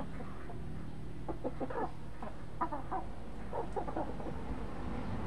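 Fighting roosters, tall gamecocks kept as fowl, cluck in short repeated bursts against a steady farmyard background, fairly close with no talking.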